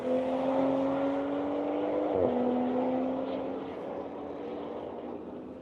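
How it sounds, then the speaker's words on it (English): A Toyota Supra race car on a track passes near and loud, its steady engine tone shifting in pitch at mid-pass and then easing slightly as it continues its lap. "Here comes Lisa in the Supra, beginning her third lap."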